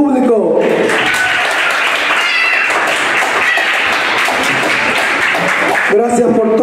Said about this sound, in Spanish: Un aplauso a este público.